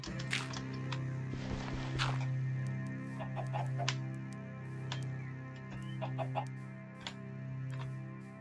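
Chickens in vanilla Minecraft cluck in short, soft bursts scattered over a steady low background hum, with no one speaking.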